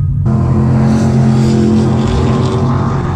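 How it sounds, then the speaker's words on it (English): Drag racing cars lined up at a callout race day, with a loud, steady engine roar that starts abruptly and holds near and constant for a few seconds, with no talk over it. "So the drag racing just started."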